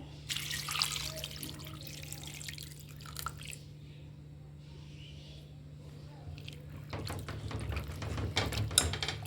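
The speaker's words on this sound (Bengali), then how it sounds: "এর মধ্যে পানি দিয়ে বসিয়ে দিব চুলায়" Water runs from a tap into a cooking pot of lentils and meat seasoned with whole garam masala and salt, a steady close splashing and trickling with clattering handling sounds before and after.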